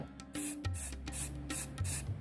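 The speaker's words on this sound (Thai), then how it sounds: "เราควรฟ้ามกระป๋องนะครับ และฉีดพ่นอีกครั้ง เพื่อไล่สี ตรงปากออกไปให้หมด" An aerosol spray paint can hisses in short bursts as it is sprayed to clear paint from the nozzle, close and fairly quiet, with brief gaps between sprays.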